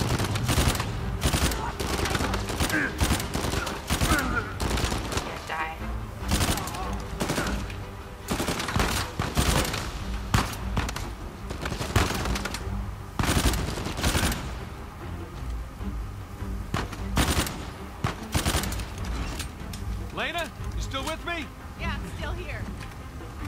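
Bursts of gunfire from the video game Uncharted 4, rapid automatic fire and single shots cracking in quick, dense volleys, with someone talking over parts of it.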